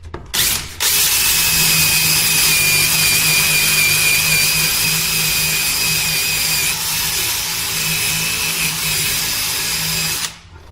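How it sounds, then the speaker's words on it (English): A power drill with a 60-grit sanding attachment whines continuously against a metal truck bed for about ten seconds, loud and close, starting and stopping abruptly. "the tool that I like to use is a drill attachment like this."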